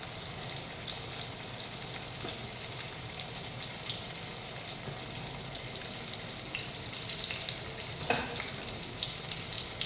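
Pointed gourd frying in hot oil gives a steady, even sizzle with a broad hiss that runs throughout, plus one brief clink near the end.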